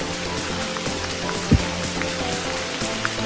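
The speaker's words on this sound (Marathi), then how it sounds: "पाऊस लागलेला आहे खूप." Heavy rain falls on a rough forest trail on the trek to Bhimashankar, a dense, steady hiss of drops with no pauses, close and loud throughout, with one brief thump partway through.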